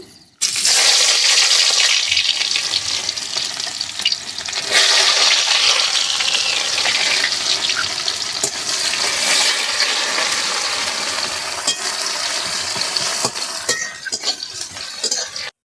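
Chopped onion hits hot mustard oil in a wok over a village cooking fire, giving a loud, steady, close-up sizzle that holds for about fifteen seconds, swelling briefly partway through, with no voices.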